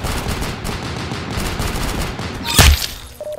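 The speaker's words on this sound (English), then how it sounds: "Oh, the shotguns are my favorite." Gunfire in the video game Roblox Arsenal, with rapid shots building under a dense game soundscape and a single loud, sharp blast near the end.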